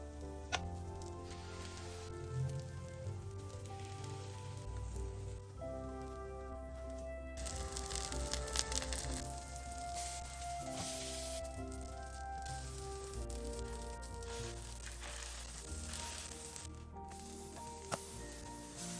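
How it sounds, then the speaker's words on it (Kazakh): Beef liver fries in a hot pan, a constant soft sizzle running under other kitchen sounds and background music, fairly quiet and steady throughout. "Баяу отта табаны қыздырып, бауырды қуыра бастаймыз"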